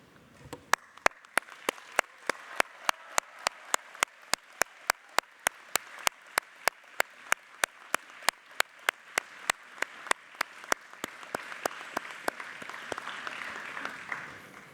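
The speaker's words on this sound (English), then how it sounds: "Join me in giving them a warm round of applause, and this time, the loudest cheer that you can manage." Graduates and supporters at a university business and law graduation ceremony give a warm round of applause, with sharp, evenly spaced beats running throughout. Crowd cheering swells toward the end.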